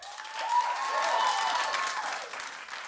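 A studio audience on a television talk show claps in a steady burst of applause that swells and then gradually thins over a few seconds, with no talking.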